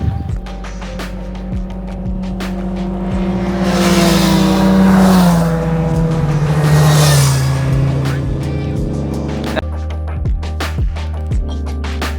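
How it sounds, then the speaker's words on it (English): A motorbike engine approaches on the Snake Pass, A57, rises to a loud roar as it passes close by, then fades away along the road. "So if we catch a motorbike coming round."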